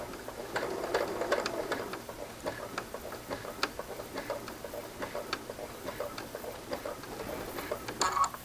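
Sewing machine stitching a curved seam on a fabric wristlet, running in a steady quick patter of small ticking needle strokes, fairly faint and close, with no talk over it.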